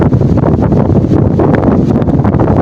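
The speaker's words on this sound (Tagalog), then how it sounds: "buong gabi lakas ng hangin" Strong northeast monsoon wind blows hard at night, a steady close roar with constant buffeting gusts against the microphone and no voices.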